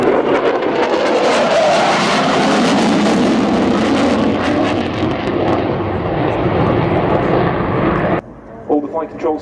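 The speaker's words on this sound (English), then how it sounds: "Now accelerating up to 600 knots, that's about 690 miles an hour." A jet aircraft accelerating to high speed during a flying display at the RIAT airshow in 2014 gives a loud, sustained broadband roar. Commentary runs over it throughout, and the roar cuts off abruptly near the end.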